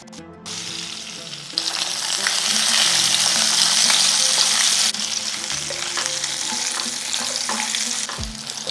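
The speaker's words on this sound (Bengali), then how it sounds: "তেল বেশ ভালো মতো গরম হয়ে গিয়েছে। এরপর পটলগুলো দিয়ে দেব।" Pointed gourd (potol) frying in hot oil crackles with a loud, steady sizzle that jumps up as the pieces go in, with scraping stirs and clinks breaking through; no talking.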